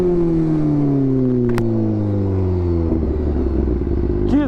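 A 2017 BMW S1000RR fitted with an aftermarket exhaust idles and revs nearby, a loud throaty engine note with falling pitch, a brief clatter, then a quick sharp blip of the throttle at the end.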